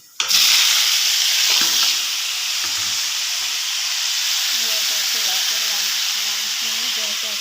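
Potato and vegetables dropped into hot oil burst into a loud sizzle that settles into a steady, close frying hiss, with a voice talking over it in the second half.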